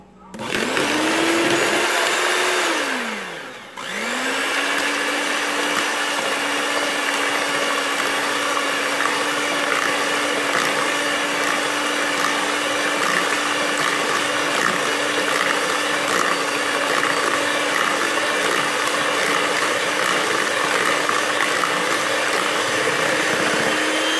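An electric mixer beats sponge cake batter of eggs, sugar and baking powder in a bowl, a loud steady motor whine that dips briefly as it slows near the start, then runs on evenly.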